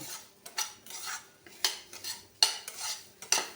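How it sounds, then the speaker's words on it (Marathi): Semolina roasting in ghee in a kadhai over low heat, a spatula scraping and tapping the pan in a steady rhythm of short strokes, close and fairly soft, with a faint sizzle beneath. "रवा भाजतो त्याप्रमाणे सुंदर असा खरपूस भाजून घ्यायचा आहे मंद आचेवर भाजायचा आहे"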